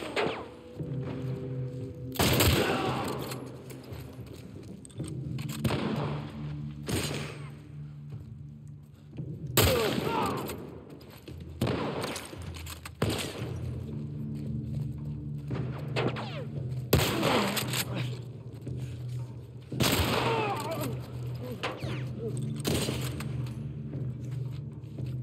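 Gunfire in the video game The Last of Us Part 1, heavy booming shots and thuds scattered irregularly over about 25 seconds, with a low droning background and occasional footsteps.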